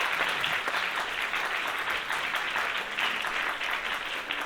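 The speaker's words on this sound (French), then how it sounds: "nos petits chatons chatonnes qu'on peut applaudir très fort" A comedy show audience applauds the event's security staff, a dense, even stream of many hands clapping loudly and steadily throughout with no talk over it.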